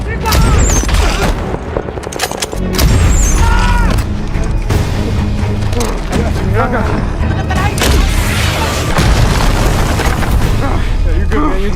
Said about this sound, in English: I need you to lay down some cover fire for Abel.